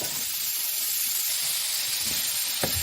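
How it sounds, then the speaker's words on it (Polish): Bacon sizzles and hisses steadily in a hot pot while cooking Polish żurek soup, a constant crackling fry with a couple of small pops near the end. "Podsmażamy boczek, później wrzucimy do tego cebulkę."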